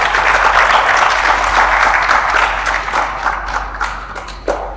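Children in a French Christmas-themed gathering clap loudly and steadily, a dense wash of applause that thins slightly toward the end.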